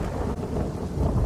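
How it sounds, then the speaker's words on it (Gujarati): Heavy rain pours down in Dwarka, a dense loud hiss over deep rolling thunder that rumbles continuously through the short moment, with no voices. "મુશળધાર વરસાદ આ વિસ્તારમાં વરસી રહ્યો"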